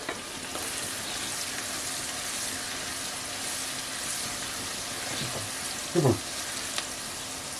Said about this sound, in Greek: αφήστε να καραμελώσουν τα κρεμμύδια